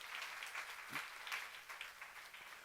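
A church seminar congregation gives a quiet, continuous wash of applause, faint and distant-sounding, with a brief voice-like sound near one second.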